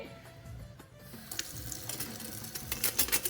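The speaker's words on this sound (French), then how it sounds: "J'ouvre le robinet" Tap water running from a kitchen faucet to rinse green tea leaves for Moroccan mint tea, a steady soft splashing stream that grows slightly louder after the tap opens.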